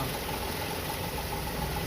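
A Toyota Kijang 5K engine idles during a tune-up, a steady, even mechanical hum with a faint regular knock, close and alone without talk.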